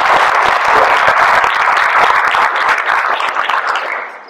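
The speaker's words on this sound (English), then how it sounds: "Please clap." Audience applause at a talk: dense, loud clapping sustained for about four seconds, tapering slightly toward the end, with no voices over it.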